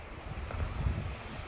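Strong, cold wind on a July day buffets the microphone with a steady, rough rumble that continues throughout the short stretch, with no voices.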